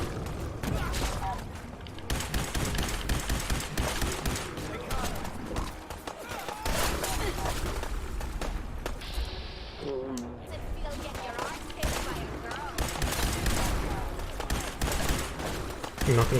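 Gunfire in Fallout 4, aimed for headshots during the start of the Far Harbor DLC, with repeated shots and bursts over a busy game soundscape, mixed under ongoing talk throughout.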